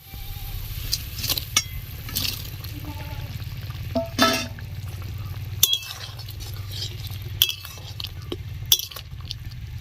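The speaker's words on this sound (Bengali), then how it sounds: "এবার মশলাটাকে ভালো করে কষিয়ে নিব" Spice paste for an egg and green banana kofta curry stir-fried in a pan, a steady close sizzle with repeated scraping, stirring and clinks of a utensil against the metal throughout.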